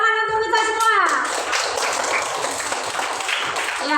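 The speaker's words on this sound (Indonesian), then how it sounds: "Ya, tepuk tangan untuk kita semua." Schoolchildren clapping together in a classroom at the end of a lesson, a full burst of applause that comes in after a brief tonal sound and keeps going steadily, with young voices mixed in.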